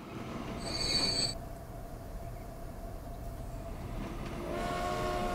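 An early-1900s freight train in the Transport Fever simulation game rolls along with a steady rumble, a brief high squeal of wheels or whistle near the start and another toward the end, with no talk.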